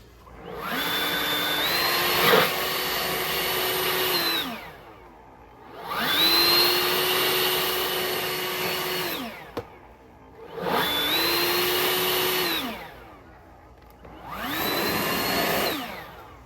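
Compressed air blasting debris off a K&N engine air filter from a 2018 Silverado 5.3: four loud, steady bursts of hissing airflow, each lasting a few seconds with short pauses between, close up and with no talking.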